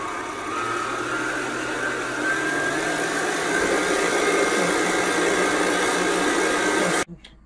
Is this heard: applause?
no